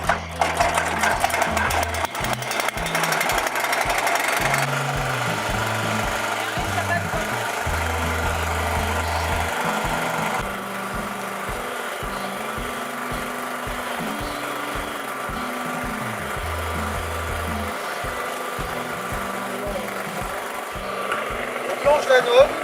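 A portable generator runs steadily for electric fishing outdoors beside a river, a continuous droning motor hum with shifting low tones and a brief harsher stretch at the start.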